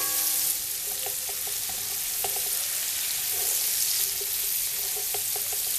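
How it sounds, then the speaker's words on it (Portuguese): Steady loud sizzling of meat frying in a hot pan for feijoada, with occasional light clinks of a utensil stirring. "Agora nós vamos deixando fritando aqui um pouquinho"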